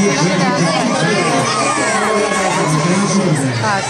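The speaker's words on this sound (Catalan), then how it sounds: "Aquest aplaudiment per ells també." A crowd of children at a Vila-seca event for the TV3 marathon cheers and shouts with lively clapping, loud and continuous, high voices whooping over a dense layer of chatter.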